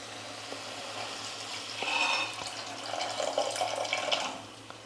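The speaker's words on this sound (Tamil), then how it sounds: "இப்போ புளி தண்ணி சேர்த்துக்கலாம்." Tamarind water for pepper rasam pours into a pan of softened tomatoes, a faint splashing and trickling that rises in two soft bursts over a quiet kitchen background.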